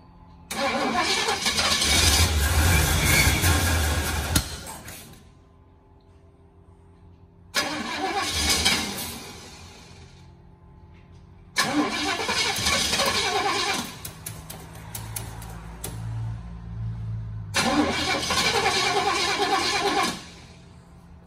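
A 1968 Chevrolet Impala convertible engine cranks loudly in four separate bursts, with pauses between them and brief rough running during the third attempt, close up with no talk.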